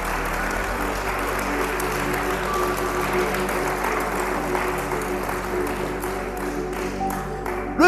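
Continuous clapping from a congregation at a morning worship service, moderately loud and steady, layered over sustained music.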